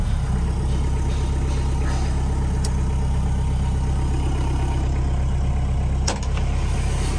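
Suzuki Samurai fitted with a big turbo, its engine running at a steady loud idle close by, a constant rumbling drone with no talk.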